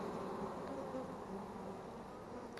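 Honey bees fanning their wings at a vent hole in a house wall during a bee removal, a steady, faint, continuous hum with no voices over it.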